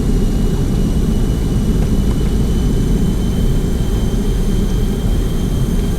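MD-80 jet engines roaring in reverse thrust in X-Plane during landing rollout, a loud, steady low rumble with a faint high whine, continuous and unbroken with no talking.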